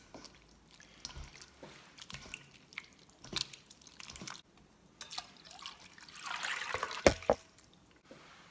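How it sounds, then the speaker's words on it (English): Cold water is poured back into a bowl of dough being rinsed for Shanxi rolled noodle skins, with soft drips, sloshing and squishy handling that build into a brief trickle near the end, quiet and close. "Refill with cold water and repeat the process."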